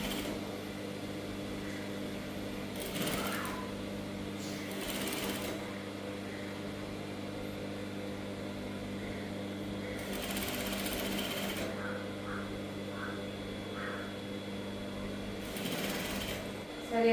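Domestic sewing machine running in several short bursts while stitching a full round neckline on a saree blouse with lining, a steady whirring rattle that stops and restarts against a quiet room hum.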